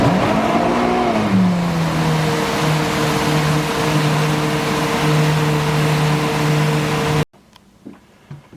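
A Yamaha 242X jet boat on open water accelerates at full throttle. The engine roar climbs in pitch and then holds a loud, steady whine, with water rushing beneath it, before cutting off abruptly near the end.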